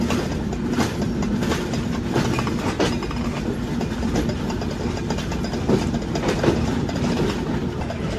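The Rupsha Express pulls out of Jessore Junction in Bangladesh, heard from inside a crowded carriage as a continuous loud rumble with rhythmic clickety-clack of wheels over rail joints, no voices.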